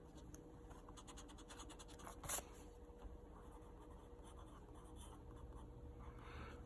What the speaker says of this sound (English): I'll write it over here